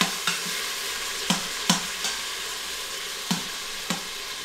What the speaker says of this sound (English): Stir it up, flip it over.